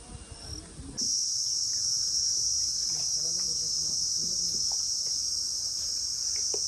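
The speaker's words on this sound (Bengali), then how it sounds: "জঙ্গলে কিন্তু প্রচুর ঝিঝি ডাকছে আজ" A dense, continuous high-pitched drone of crickets in a forest begins abruptly and fills the air steadily, with faint low rustling and birdlike calls beneath.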